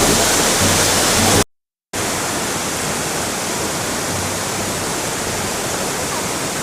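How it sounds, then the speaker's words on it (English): Water rushes steadily beneath a pipe at Battle Creek Falls, a loud continuous broadband roar close by with a low booming undertone, broken once by a brief total dropout. "occasionally some of the air pressure is making that pipe make that booming sound"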